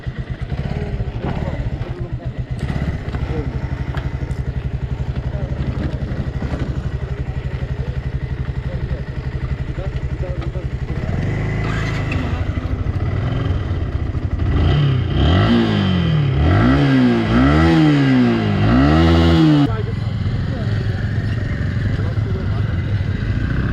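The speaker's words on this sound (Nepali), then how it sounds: "म चाहिँ अझै साथीकै बाइक चलाउँछु" A motorcycle is ridden on the road toward Jarsing Pauwa, its engine droning steadily close by, with rising and falling revs as it accelerates and shifts in the second half, wind noise throughout.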